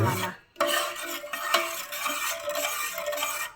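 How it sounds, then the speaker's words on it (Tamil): Spoon stirring sugar into carrot payasam in a metal pot, a continuous close scraping and swishing with light clinks against the pot. "சர்க்கரை கரைய நல்லா கிளறி விடணும்"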